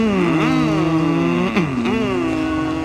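Several voices mimic race car engines, producing overlapping rising and falling vroom tones with Doppler-like swoops, loud and close, repeated in waves across a few seconds.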